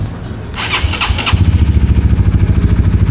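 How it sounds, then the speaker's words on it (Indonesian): Motorcycle engine, a superbike on PTT Challenger oil, cranks and fires after a brief electric starter whine, then settles into a loud, steady idle with a rhythmic pulsing thump, close by. "Yuk kita panasin dulu motornya."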